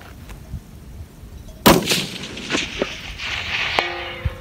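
A single rifle shot from a 61 cm Monza barrel fired at a 471 metre target cracks sharply and loudly, then trails off in a rolling outdoor echo.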